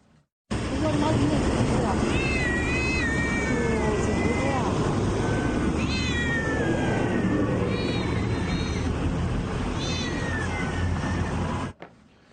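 Several house cats meow and yowl repeatedly, loud and close, with rising cries over a dense rumbling background noise.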